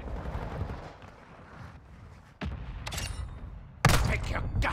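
Mortar strike explosions and bursts of gunfire in a military video game, with a rumbling barrage followed by two sharp, loud impacts that cut through the noisy battle.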